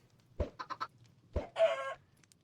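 Chickens clucking in the Minecraft video game: a few short, sharp clucks in two quick bursts, then a brief squawk. Clear and close against near silence.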